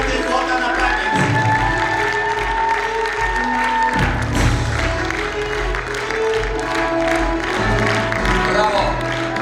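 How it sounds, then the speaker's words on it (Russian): A theatre crowd at a youth theatre award ceremony breaks into loud, sustained applause with cheering and whoops, steady throughout over music, with shouts rising above the clapping. "Подложи бурные аплодисменты, фото на память."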